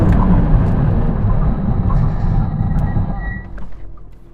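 A Porsche braking hard from 100 mph in a stopping-distance test: a loud, steady broadband roar that fades and thins out over the last second as the car comes to a stop, with no voices.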